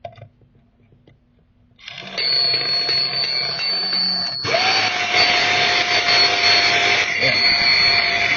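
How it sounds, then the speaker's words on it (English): After a quiet start, a tiny electric motor of an antique Tyco fire truck slot car spins up on a dyno into a high, steady whine, then jumps to a louder, higher-pitched buzz that holds steady. "Let's put her on a dyno. See if she makes a little noise."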